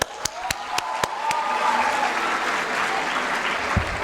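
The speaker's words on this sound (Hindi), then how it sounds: "एक बार मैं उसके लिए ताली बजाना चाहूँगा" Audience applause at a school blessing ceremony: a few sharp claps at first, then steady, loud clapping from the crowd that holds for several seconds.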